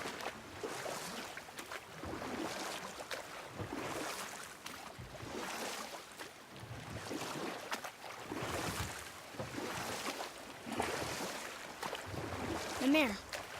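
A boat being rowed across water in the video game God of War, with rhythmic oar strokes and splashing in repeated surges over wind and ambient water, while a voice talks at times.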